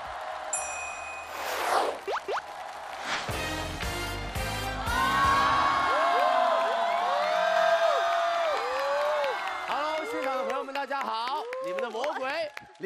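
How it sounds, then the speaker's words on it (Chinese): Enthusiastic audience applause and cheering greet a celebrity's entrance at a live Chinese crosstalk comedy show. A dense roar of clapping and shouts builds across the stage, with a whoosh, amplified voices and music over it. "这掌声也太热烈了吧"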